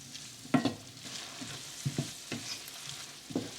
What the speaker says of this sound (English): we're going to continue sauteing this till the tomatoes turn soft